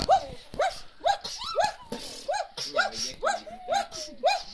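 A dog barks repeatedly in a fast irregular series of sharp, fairly loud barks, close by, with a few whiny yelps mixed in.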